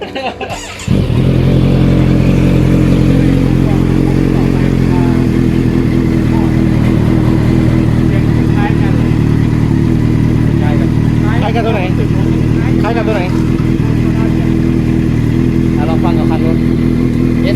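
Kawasaki Z900 2021 motorcycle fitted with an aftermarket SC-Project-style exhaust idling loudly and steadily close by after starting, a deep continuous rumble with occasional people talking underneath.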